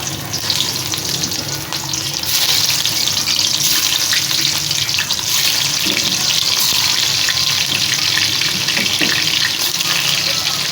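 Bitter gourds frying one by one in hot oil in a pan, a loud continuous sizzle and crackle with occasional stirring clinks, steady throughout with no talk.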